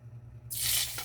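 A lapu-lapu grouper fish head frying in oil makes a sudden loud burst of hissing sizzle that follows a low, quiet hum and then eases off slightly.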